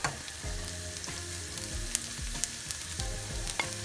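Chopped garlic frying in rapeseed oil in a pan, giving a steady close sizzle with repeated scraping stirs and occasional light clinks.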